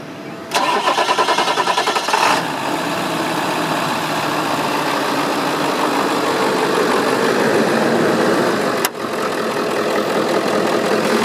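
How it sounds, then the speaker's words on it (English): A Ford Power Stroke diesel in a 16-foot box van cranks over and fires up, then settles into a loud, steady, clattering idle up close, with a brief sharp knock near the end. "And so we'll just start up the diesel for you."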